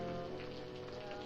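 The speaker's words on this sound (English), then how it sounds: "It's raining." Steady rain falls on a rural cotton farm, a dense, even hiss of drops on surfaces running unbroken and fairly faint, with no voices over it.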